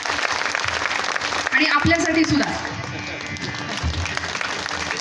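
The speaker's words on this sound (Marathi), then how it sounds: "यासाठी या लोकांसाठी टाळ्या वाजवायच्या नेहमी" Applause from a kirtan audience in honour of the musicians, a steady broadband patter that swells briefly and runs beneath someone speaking throughout.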